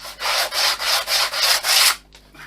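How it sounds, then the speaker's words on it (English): Sandpaper is rubbed back and forth over a wooden RC plane wing, six even rhythmic rasping strokes, close and loud, followed by a softer brief scrape. "Make certain you go over well with sandpaper."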